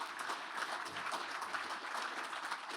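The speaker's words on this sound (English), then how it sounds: "Let's give them all a round of applause." Audience applause for business award winners at a State of the City event: a steady, fairly faint wash of clapping from a room of people, continuous and even throughout.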